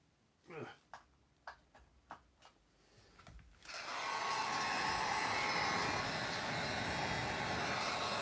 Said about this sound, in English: I still have my heat gun out. Let me go ahead and heat these up and try to pull those off.